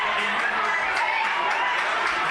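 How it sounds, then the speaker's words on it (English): A crowd at a women's football grand final between the Nightcliff Tigers and Tracy Village at Gardens Oval roars and cheers in a steady, broad wash, with a commentator talking over it. "Crowd getting involved."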